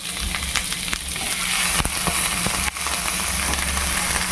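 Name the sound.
hilsa fish parcels frying in hot oil in a pan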